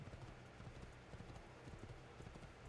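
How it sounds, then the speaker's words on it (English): A horse in Assassin's Creed 2 gallops in quick, rhythmic hoof clops under a dense, noisy game soundscape, with the beats running fast and even across the whole moment. "Whoa, Nelly. Calm down there, horsey."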